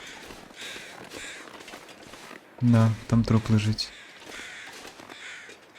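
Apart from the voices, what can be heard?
crows cawing in video game The Long Dark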